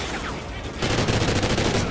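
Rifle fire in the Call of Duty Ghosts video game: after a short quieter stretch, a steady rapid burst of evenly spaced shots keeps going loud to the end.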